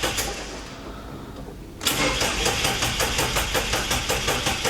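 An engine labelled "Baz" in a garage cranks hard on start-up, then catches and settles into a loud, rapid rhythmic chugging with a knocking beat, close and without voices.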